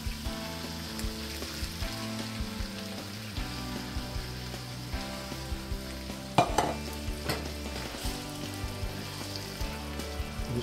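Meat and diced tomatoes with tomato sauce being stirred in a pan for homemade spaghetti sauce, a steady close sizzle with scraping stirs throughout and one sharper clatter midway, under a low background hum.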